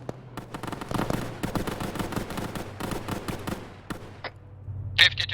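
Heavy .50 caliber machine gun fire in a Vietnam War shooter game, rapid bursts of loud overlapping shots with short pauses, a near sharp blast near the end.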